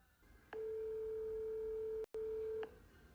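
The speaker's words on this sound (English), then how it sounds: "Now, listen to where this phone number goes to when you call this childcare center." A single long telephone tone on a call to a childcare center's number, held steady for about two seconds with a brief dropout, then resuming briefly before fading into quiet line hiss.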